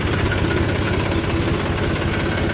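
A tractor engine idles on a farm field, a loud, steady rumbling drone with a rough low chug that continues without pause.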